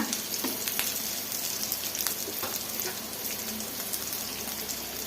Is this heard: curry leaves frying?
yes